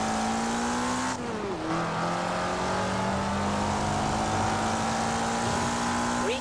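A Lancia's engine drones at steady revs in Forza Horizon 4, with a brief dip and shift as the car slows, then picks up again, loud and close.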